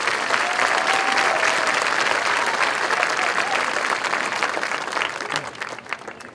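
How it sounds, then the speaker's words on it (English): Sustained applause from a large graduation audience honoring student speakers, dense and steady clapping that fills the space before gradually thinning toward the end. "let's do another round of applause for those 4 students that gave exceptional speeches"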